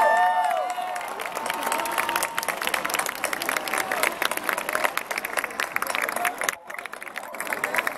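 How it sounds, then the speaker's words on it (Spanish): Sustained applause from a concert audience at the Zócalo in Mexico City, dense clapping with crowd noise and some voices mixed in, steady throughout and dipping briefly near the end. "El aplauso se queda contigo"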